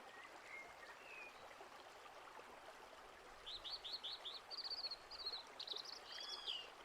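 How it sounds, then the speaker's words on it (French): A cascading stream on a nature trail runs as a soft, distant, steady trickle, with small birds chirping and tweeting faintly over it in short bursts toward the end. "Écoutez les murmures, les chuchotements, les bourdonnements de l'eau qui cascade"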